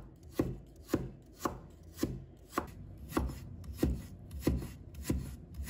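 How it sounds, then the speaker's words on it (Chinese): A knife slicing a piece of fresh ginger on a cutting board, about ten crisp, evenly spaced chops in a steady rhythm, close and clear with no talking. "再准备1块生姜， 把它切成片。"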